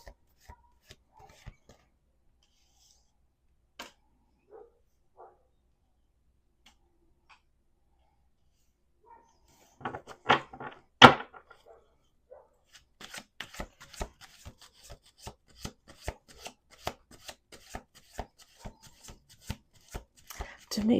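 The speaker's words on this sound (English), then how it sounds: "I'm going to do 2 more shuffles." Tarot cards being shuffled: a quiet scattered stretch, then a brief flurry, followed by a rapid run of sharp flicking riffles continuing to the end.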